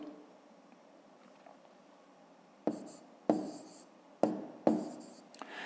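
A pen writes numbers on paper while a math exercise is solved, quiet at first, then several short scratchy bursts of strokes close by, each starting sharply and fading.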